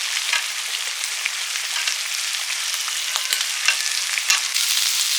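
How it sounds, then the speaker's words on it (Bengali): New potatoes frying in oil in a pan, a close, steady high sizzle with small pops and occasional stirring scrapes, heard alone with no voices. "দিলাম তাড়াতাড়ি ভাজা হয়ে যায় ভেজে রাখা নতুন আলু"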